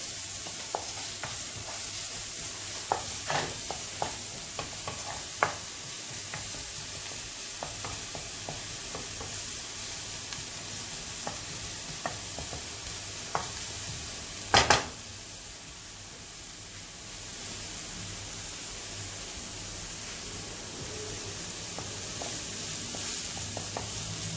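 Onions with a sprinkle of salt cook in a pan, giving a faint, steady sizzle with occasional soft stirring clicks and one sharper knock midway, quiet and without speech.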